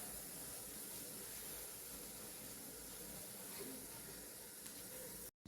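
Taro leaf rolls (alu vadi) steam over a low gas flame, giving a faint, steady hiss that runs unbroken and stops abruptly at the very end.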